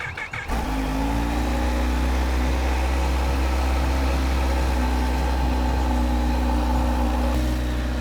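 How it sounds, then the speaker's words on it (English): A Kawasaki Z H2 motorcycle engine starts after an oil and filter change: a short cranking burst, then a steady, close idle that hums evenly for several seconds. "so let's turn the bike on"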